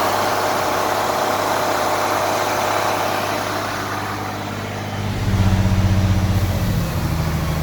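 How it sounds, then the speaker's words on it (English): A 1993 International box truck's 210-horsepower DT466 diesel engine runs steadily close by, with a deeper, louder surge in the low rumble near the end as the revs rise. "This is a good, strong engine."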